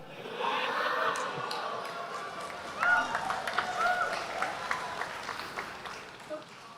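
Audience at a public question-and-answer session with Anies Baswedan applauds with a steady wash of clapping at moderate distance, a slight swell near the middle.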